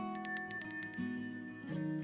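A cheerful bicycle-style bell rings several quick bright dings in a row, then rings once more after a short pause, clear and close with no voices.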